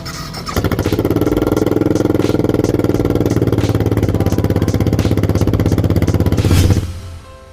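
A Suzuki LS 650 Savage motorcycle, a single-cylinder 650cc bike built from 1984 to 2004, runs with a loud, steady, throbbing engine note up close before cutting off near the end.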